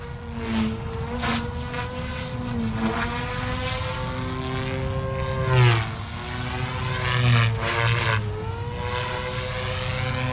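Goosky RS4 or Goblin RAW 420 RC helicopter in flight with collective punches: a steady, loud high-pitched rotor and motor whine that rises and dips in pitch as head speed shifts, heard alone throughout.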